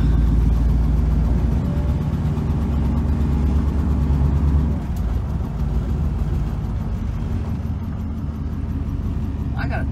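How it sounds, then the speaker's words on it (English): A rare 1957 Cadillac Eldorado drives along, its engine a steady low rumble and road noise that stays loud throughout, easing slightly midway, heard close from inside the car. "Let's take it for a little drive."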